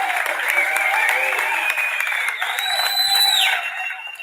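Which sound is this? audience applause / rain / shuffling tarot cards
audience applause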